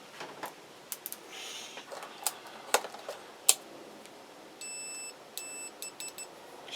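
Digital multimeter on a continuity test against a Kawasaki BN125 Eliminator motorcycle part: faint clicks and taps of probes, then a few short electronic beeps in quick succession near the end, quiet and close, with no speech.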